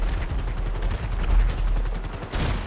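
Dense, rapid gunfire and machine-gun bursts pound a helicopter in the video game GTA Online, with a steady rotor rumble beneath the continuous, loud volley.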